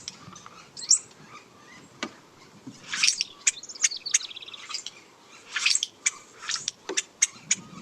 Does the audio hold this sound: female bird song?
yes